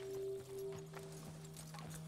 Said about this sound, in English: It's a really big horse.